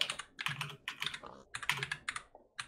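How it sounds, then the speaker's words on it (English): Quick, close clicking keystrokes on a computer keyboard in uneven bursts with short pauses between them, spelling out a word while playing modded Minecraft. "hold shift and hit 2, and you'll get the at, and then type in inventory"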